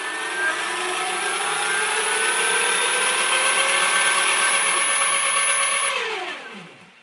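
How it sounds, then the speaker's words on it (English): Electric motors spin wheels during a VESC Tool motor test, a steady high whine with rising tonal lines holding loud and close before winding down at the end. "Now the wheels are spinning."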